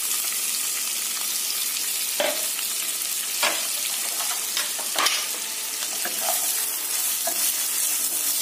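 Onions frying with asafoetida in a pan until golden brown for urad dal khichdi make a continuous close sizzle, broken by sharp clicks and taps of a stirring spoon against the pan, with no talking.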